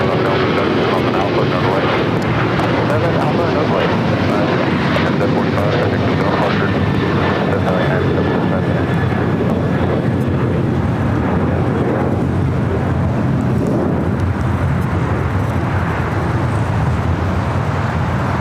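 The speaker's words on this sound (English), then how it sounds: "That was United Airlines Flight 745 heading to Denver at 737-900ER" United Airlines Boeing 737-900ER jet departing LAX for Denver, a loud, steady engine roar filling the whole stretch with broadband rumble and a faint whine, with traffic-like noise mixed underneath.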